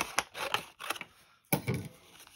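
Scissors snip a circuit sticker down to size for a light-up butterfly card, with several short, crisp cutting clicks in uneven bursts, close and fairly quiet.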